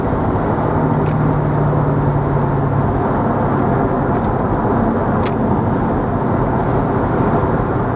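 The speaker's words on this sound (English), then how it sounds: "V8 noise." A 2003 Mercedes SL55 AMG V8 driving on country roads, a steady, loud, dense engine roar with road rumble and no pauses, and a couple of faint clicks along the way.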